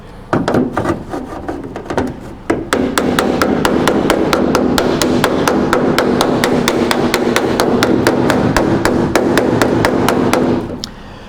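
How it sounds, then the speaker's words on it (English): Repeated sharp hammer strikes against a dolly held behind a patch panel on a 1960-66 Chevy/GMC truck cab corner during rust repair, a steady close metallic rhythm of dozens of taps after a few scattered opening hits. "I'll take my dolly, I'll put it behind my cab here on the blue paint, and then I'll tap this in a little bit"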